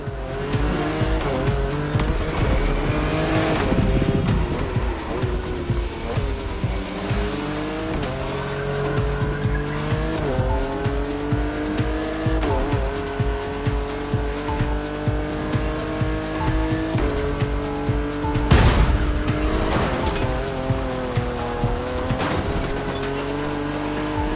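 Racing cars in The Crew Motorfest tear through the night streets of Honolulu in a Japanese-car urban race, with steady roaring engines, shifting revs and repeated tire squeals throughout, loud and close.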